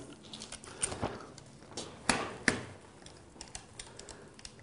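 Small plastic and metal clicks as a lollipop fitting is pushed into the holder of a Lastolite Hotrod strip softbox, a few sharp close taps over faint handling noise, with no talking.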